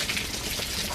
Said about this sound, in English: So now that I got the plug removed, the water will freely drain out.